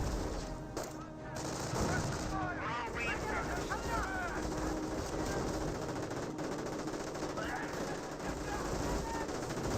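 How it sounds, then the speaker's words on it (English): Machine gun fire from a Panther tank in Company of Heroes rattles amid a dense, continuous din of battle, with bursts of gunfire and rumbling explosions layered over constant background noise. "some sort of machine gun fire. It's from the Panther right here."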